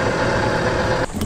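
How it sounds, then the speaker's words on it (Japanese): A fishing boat's engine runs in a loud, steady drone at sea during net hauling, then drops off abruptly near the end. "ちょっとエンジン音がうるさいんで手繰りに変更です。"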